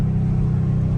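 A catless Dodge Charger Scat Pack in track mode roars with a loud, deep exhaust rumble, a close, sustained low growl with steady pulsing that holds for about a second.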